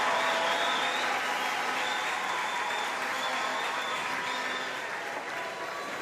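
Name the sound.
applause after a table tennis rally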